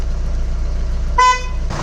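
A single short car horn toot from a replacement single-tone horn on a 2001 Chrysler Voyager 2.5 CRD, a thin reedy beep over a low idling diesel rumble.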